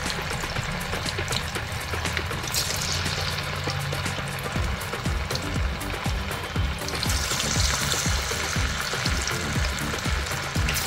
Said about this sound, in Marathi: एका कढईमध्ये तेल घेऊन आपण जे चिकन मॅरिनेट करून ठेवलेलं आहे ते आपण तळून घेऊया